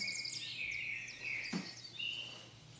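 Birds chirp and call outdoors on a sunny day, several thin high tweets and short trills scattered over a faint steady background, fairly quiet and distant.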